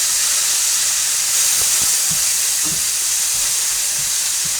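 A loud, steady sizzling hiss of yogurt searing in a hot oiled pan, continuous throughout with faint clinks underneath.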